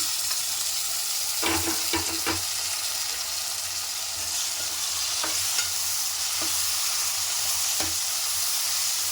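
Chopped tomatoes fry in a pan of brinjal masala curry with a loud, constant sizzle. Occasional soft stirring taps sound under the hiss.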